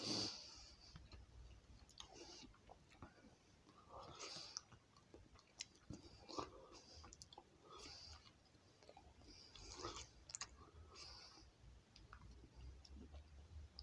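Close, quiet chewing of Chewits Extreme Sour Apple Laces candy, with sticky, wet mastication sounds and small clicks repeating irregularly, and no talk.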